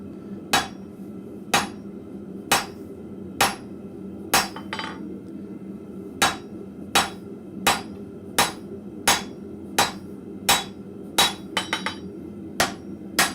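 Blacksmith at a forge striking hot steel on an anvil: sharp ringing hammer blows land at a steady beat of about one per second, with a quick flurry of light taps near the end.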